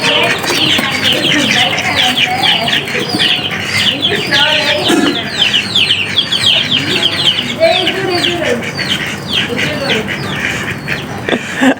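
A flock of ducks calls repeatedly and close by, with overlapping quacks and nasal cries that come in busy bursts throughout.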